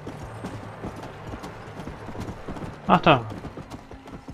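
A horse gallops in Red Dead Redemption: Undead Nightmare with a rapid, steady clip-clop of hooves under a game soundscape, and a brief whinny midway; someone speaks briefly over it.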